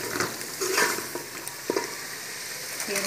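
Chicken fries in a pan with a steady sizzle, while a spoon stirs and scrapes against the metal in quick irregular clinks, close and fairly loud.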